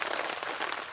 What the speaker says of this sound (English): it's raining on me like crazy